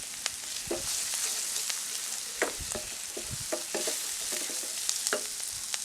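Garlic and ginger frying and being stirred in a pan, a steady sizzle broken by repeated scraping clicks of the utensil, close and fairly loud with no talk.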